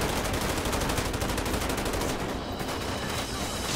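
Sustained rapid gunfire from a police SWAT shootout in the video game GTA 5 fills the whole stretch with dense, loud automatic bursts and no talk.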